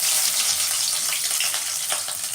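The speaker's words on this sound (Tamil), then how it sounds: "கடுகு போட்டோன்னே அப்படியே சூடாகிடுச்சு இல்லையா, நல்லா படப்படம் பொரிய போது பாருங்கள்." Mustard seeds crackle and splutter in hot cooking oil, a steady dense sizzle with fine popping throughout, close and fairly loud, no talking.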